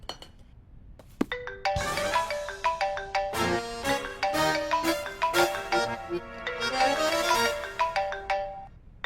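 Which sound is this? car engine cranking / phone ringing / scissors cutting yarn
phone ringing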